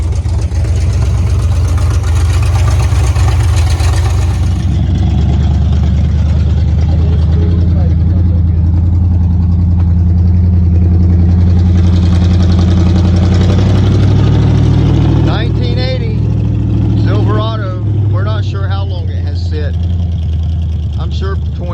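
A SquareBody Chevy dually truck engine idles loudly and steadily after sitting about 20 years, a deep continuous rumble close by with someone talking over it toward the end.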